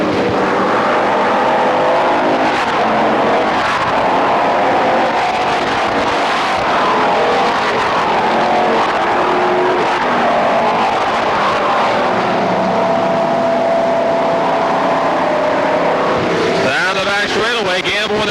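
Stock cars race around a short oval track at a 1994 regular show, engines droning loudly and continuously with a pack passing nearby near the end, under a race announcer's commentary.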